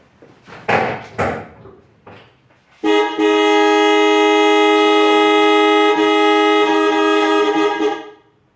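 A Datsun B210's car horn blares in one long, loud, steady tone for about five seconds, preceded by a few brief clunks and rustles nearby.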